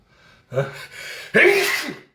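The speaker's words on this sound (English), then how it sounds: "I'm gonna sneeze and it doesn't want to come out." A person gasps in a couple of short breaths, then lets out one loud, close sneeze with a trailing exhale.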